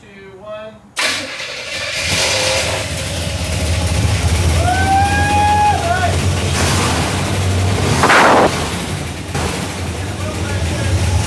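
A Chevrolet El Camino project car's engine catches abruptly and keeps running with a loud, steady rumble. Voices are heard over the running engine.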